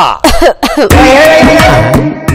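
A person coughs in a quick series of harsh, close bursts, followed by a longer rough, throaty cough with a raspy tail, loud and alone with no talking.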